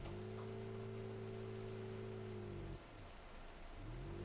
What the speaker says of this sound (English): Seeing some large hail mix in with that heavy rain.